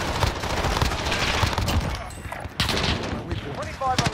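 Bursts of automatic gunfire and scattered shots in the game Call of Duty: Modern Warfare, loud and close, with a short lull partway through before the firing resumes.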